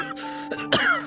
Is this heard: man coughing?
yes